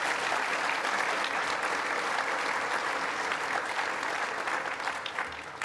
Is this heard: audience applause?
yes